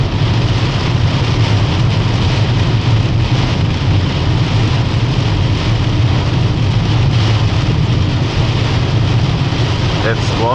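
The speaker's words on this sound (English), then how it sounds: "That's one big rainstorm." Heavy rainstorm drumming on a VW Golf 5 driving on a highway, a loud, steady wash of rain hitting the car with constant road and engine rumble underneath, heard from inside the cabin.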